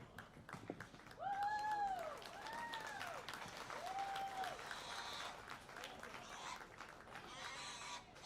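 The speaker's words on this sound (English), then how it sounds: "Give them a round of applause." Clapping from the crowd at a county fair 4-H/FFA market hog show, moderate and somewhat distant, mixed with crowd murmur and a few tonal honk-like calls in the middle.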